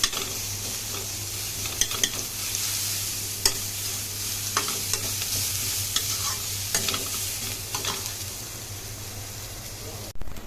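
Lentils and spices frying on a high gas flame for a masoor dal chorchori, with a steady loud sizzle, a low burner roar underneath, and repeated scraping strokes of a spatula stirring the pan.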